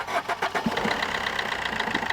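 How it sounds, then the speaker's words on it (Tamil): A used Maruti Swift diesel car engine starts and settles into a steady, fairly loud running clatter. The sound is continuous and close, with no talking. "இப்போ இன்ஜின் ஸ்டார்ட் ஆகிடுச்சுங்க."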